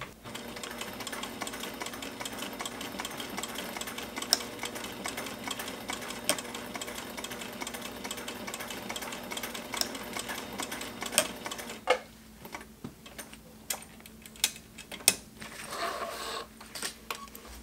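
Singer heavy-duty sewing machine stitching a bottle carrier, a steady close motor hum and needle rattle that gives way near the end to slower, uneven thumps and clicks through doubled-over fabric.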